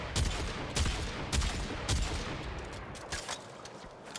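Automatic weapon fire from the video game Warframe rings out in steady, evenly spaced bursts of punchy shots, about seven in quick succession, loud and alone without talk.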